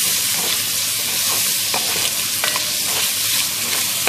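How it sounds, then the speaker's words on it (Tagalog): Biryani ingredients being stirred in a pan over a loud, constant frying sizzle, with faint scraping strokes of the spoon underneath, close and alone. "haluin lang ulit"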